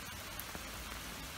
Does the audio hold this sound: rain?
yes